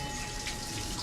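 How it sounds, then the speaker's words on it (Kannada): Water pours steadily from the mouth of a stone Nandi statue at Kadri Temple in Mangaluru, a continuous splashing flow heard close and alone with no voices. "ನಂದಿಯಿಂದ ನೀರು ಬರ್ತಾ ಇದೆ, ನೋಡ್ತಾ ಇರ್ಬೋದು"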